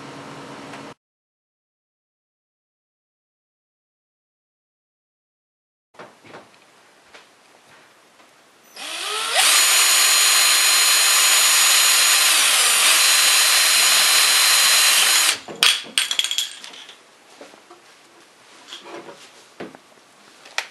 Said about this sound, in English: you want to drill out the middle of this